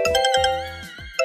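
A telephone rings with repeated electronic trills in a steady pattern, close and clear, with no voices.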